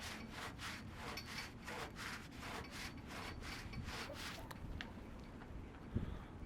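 Quick, rhythmic rag strokes scrub rust from a metal panel on a Mercedes 190E project car, about a dozen close, evenly paced rasping swipes that stop near the end, leaving a faint background and a small knock.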